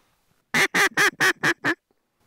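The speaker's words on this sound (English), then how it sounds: "Look at all the ducks coming." A duck quacks six times in a quick, evenly spaced series, loud and close against otherwise quiet surroundings, in western Manitoba, Canada.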